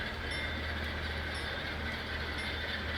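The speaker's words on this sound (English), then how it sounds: "we're just gonna run a little short train around here" Faint steady rumble of a scale model train with C40-8 sound-equipped locomotives running along its track, with a constant low hum and soft mechanical whine, no talking.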